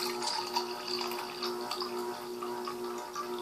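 Water poured from a bottle into a container while making fake milk: a steady, continuous close-up stream that runs the whole time without a break.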